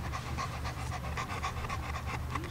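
A trained working dog pants rapidly and rhythmically close by, each breath a quick breathy burst in a steady run with no talking.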